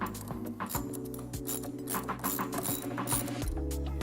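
A ratchet turning a 14mm socket loosens a crank arm bolt on a Life Fitness Integrity recumbent exercise bike, giving rapid, close, repeated clicking in short bursts with a few metallic clinks.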